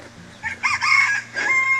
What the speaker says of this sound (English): Just gonna walk up past the chickens.